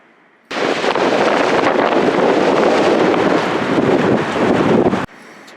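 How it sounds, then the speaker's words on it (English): Strong, steady wind roars at a lakeside campsite, a loud continuous buffeting blast that cuts in abruptly and holds for several seconds before dropping away. "It's just really strong wind, and it's supposed to last for probably 2 or 3 more days."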